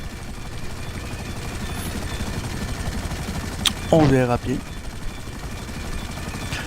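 A helicopter flies in a video game. Its rotor and engine drone runs steadily throughout, under someone talking and a brief burst of game noise.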